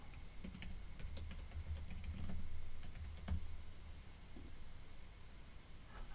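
Quick, light keyboard taps in short uneven bursts, close by, with pauses between runs over a faint low hum.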